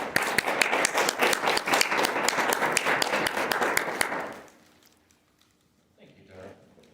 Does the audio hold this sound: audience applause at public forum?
yes